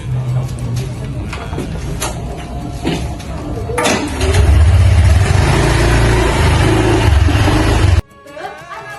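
A motorcycle engine revs loudly and close by, rising to a heavier, sustained roar before cutting off abruptly, with a faint voice underneath.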